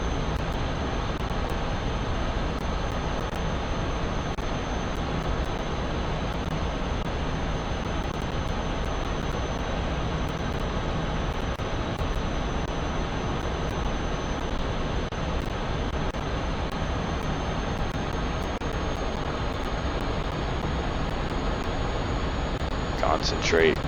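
A MiG-15 jet in the DCS flight simulator whines and roars steadily on its landing approach, a constant dense engine drone with a faint high tone running over it, with a pilot talking over the top.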